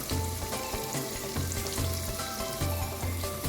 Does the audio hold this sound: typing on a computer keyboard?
no